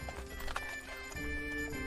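Horse hooves clip-clop in a Kingdom Come parody video game, a steady close trotting rhythm over a low musical drone, with no talk over it.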